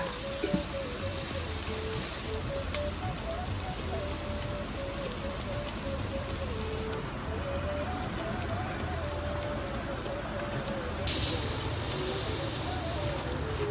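Tap water runs over food being rinsed in a kitchen, a steady close hiss of flowing, splashing water with faint background sounds and no clear speech.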